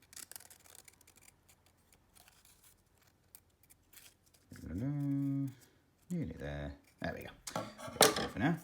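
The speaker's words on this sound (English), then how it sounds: "Pick something nice and fiddly to do with a big pair of scissors." A big pair of scissors snips faintly and intermittently while fiddly finger-puppet pieces are cut, and a voice speaks over the later part.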